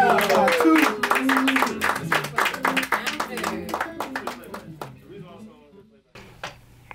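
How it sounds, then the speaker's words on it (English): Audience clapping for a performer at a live music event, a dense burst of applause that thins into scattered claps and fades, with voices heard over it. "Clap it up, clap it up, clap it up"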